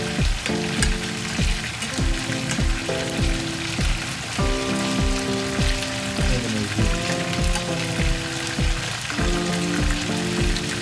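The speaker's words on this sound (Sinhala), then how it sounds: "මේ විදිහට fry වෙනවා." Veal pieces for spezzatino frying in a pan, a loud, steady sizzle with crackling spatter and occasional stirring clatter, close up and without talk.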